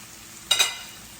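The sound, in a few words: roasted garlic added to frying shrimp and mushrooms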